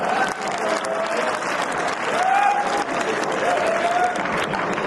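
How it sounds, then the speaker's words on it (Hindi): A crowd claps steadily through an ongoing round of applause at a live comedy show, sounding loud and continuous, with a speaking voice faintly woven through the clapping. "अभी भी आपकी तालियां कमजोर है।"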